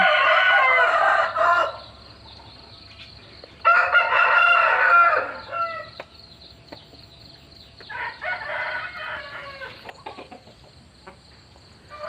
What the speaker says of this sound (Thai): ยินเสียงไก่ขันนั่น